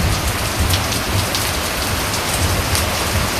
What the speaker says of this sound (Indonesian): Hujan deras, ini mulai hujan deras banget guys.